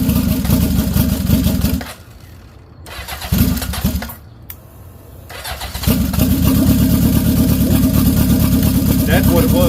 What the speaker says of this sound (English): Still need to turn the idle up just a little bit.